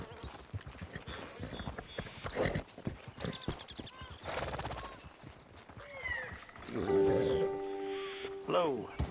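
Hooves of a Shire horse clip-clop steadily in Red Dead Redemption 2, under game voices and other chatter, with brief animal calls and tonal effects mixed in.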